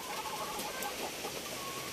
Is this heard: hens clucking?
yes